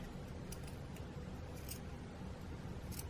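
Scissors snip through material in a few faint, separate cuts spread across a steady low background hum.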